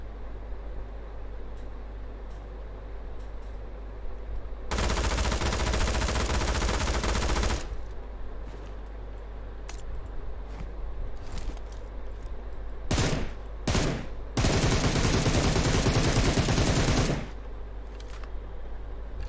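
Gunfire in PUBG Mobile, with two long sustained bursts of loud automatic fire and several short shots in between over a steady low background hum.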